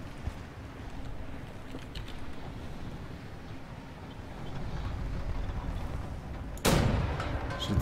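A sharp, loud cannon blast in the video game Wolfenstein: The New Order bursts out near the end over a steady rumbling background of distant booms and noise.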